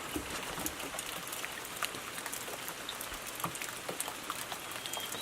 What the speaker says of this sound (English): You can see that's only a couple drips off the roof